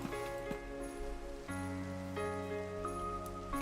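Steady rain falling in Minecraft, a constant hiss of drops playing alone under sustained tonal music or ambient notes, with no talking.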